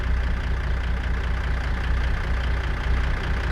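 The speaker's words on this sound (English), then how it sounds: "That's what it sounds like idling." Deep, steady idle of a Z-Mod 650 hp Cat C16 truck engine in American Truck Simulator, a loud low rumble with an even pulsing beat, heard close and alone.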